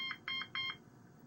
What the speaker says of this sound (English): The system will sound 3 short beeps.